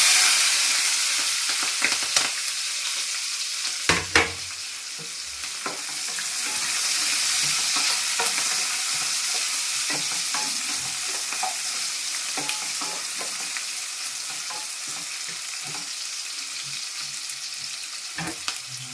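Onions fry in a pan for wheat rava upma with amaranth leaves, a steady bright sizzle running throughout, punctuated by intermittent scrapes and knocks of a spoon stirring, close and without talk.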